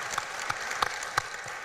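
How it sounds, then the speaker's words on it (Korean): A debate audience claps in a sparse, hesitant way. Sharp separate claps land roughly every third of a second over a faint room background. "박수 한번 크게 하시죠."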